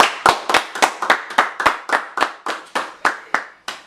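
A small group claps for a guest, with about fourteen sharp, separate claps in a steady, fairly quick rhythm. The clapping is near and loud, and no one talks over it.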